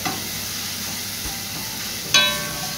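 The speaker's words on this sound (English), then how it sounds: "Let the curry fry down a bit." Curry for turkey wings frying in a pan, giving a steady close sizzle with a soft stir-like scrape and a brief sharper hiss flaring near the end, with no talking.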